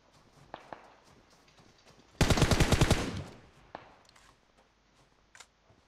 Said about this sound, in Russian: Кто тут еще стреляет?